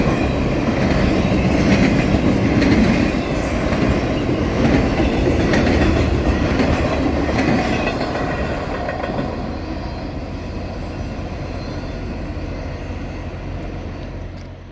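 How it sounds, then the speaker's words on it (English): A long freight train of single-stack containers and piggyback trailers rolls steadily past with rhythmic clickety-clack of wheels on rails, loud at first and gradually fading as it moves away. "So enjoy this unique train of just single stacks and piggybacks while you can."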